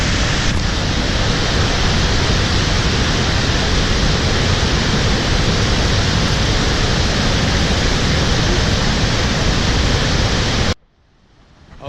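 A Yellowstone waterfall roars as a loud, steady, broadband rush of falling water, holding close and unbroken for about eleven seconds before cutting off abruptly near the end.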